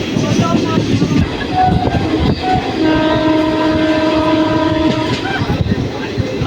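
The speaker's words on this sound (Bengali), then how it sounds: "বাগনাপাড়া ঢুকে গেল ট্রেন" A train pulls into Bagnapara station with a loud, steady rumble of wheels and carriages. A sustained horn tone sounds through the middle, and voices are faintly audible over the din.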